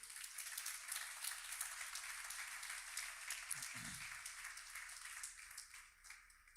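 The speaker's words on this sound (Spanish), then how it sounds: "Un aplauso a Dios." Applause from a church congregation praising God after a sermon, a steady broadband clatter of many hands that holds for several seconds before thinning out, with a brief low thump partway through.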